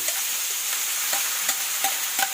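Kinunot, flaked stingray meat, being stirred in a hot pan, a steady soft sizzle broken by several light scraping clicks of the utensil at irregular intervals, close and alone.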